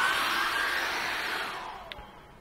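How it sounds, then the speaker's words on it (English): A handheld hair dryer blows a steady, loud whoosh of air to force-dry acrylic paint on a landscape canvas, slowly fading near the end with a small click. "we can force dry them with hair dryers"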